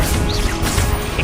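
A Confringo blasting spell bursts in Hogwarts Legacy, a loud crashing impact with a brief whooshing tail, part of steady spell-casting combat sounds.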